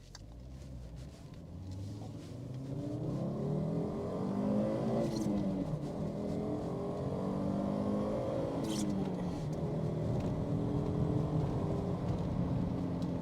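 A Fiat Coupe 20V with a five-cylinder engine driving along a road, its engine note rising and falling steadily with gear changes and a broad road and wind rumble underneath throughout.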